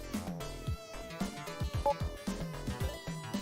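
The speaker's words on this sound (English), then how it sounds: "You can hear the crickets outside." Ambient chirping crickets from the Sonic 3D Blast video game, a steady repeating trill layered with soft game music tones, fairly quiet and continuous without voices.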